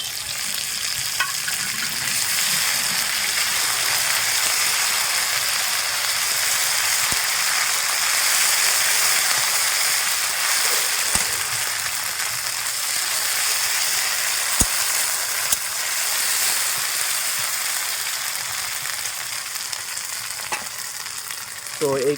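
A paste of ginger, onion, garlic, cumin, dried red chilli and garam masala frying in a pan for chicken, a dense continuous sizzle with occasional spoon taps and scrapes, close and steady, with no voices.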